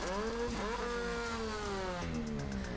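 A stock Mazda RX-8 rotary engine in Torque Drift, revving high and steady with clear whining harmonics that dip and climb, a brief shift near the middle and a rise again toward the end, heard alone and fairly loud.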